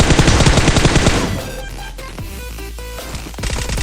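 Gunfire in the PUBG battle royale game: a loud rapid burst of automatic shots, a quieter pause with a few ringing tones, then another burst of fire starting up.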